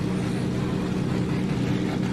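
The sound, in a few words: drift cars' engines revving together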